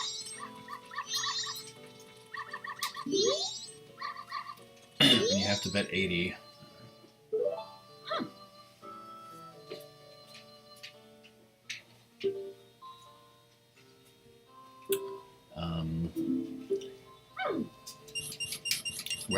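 Dog barks and whimpers from the dog race in Zelda: Majora's Mask, several short yelps scattered among game music and ticking effects, with someone talking over much of it.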